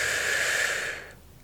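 A soft, close breath during an ASMR Kabbalah pathworking meditation is drawn in as a long airy hiss that fades away after about a second into near quiet.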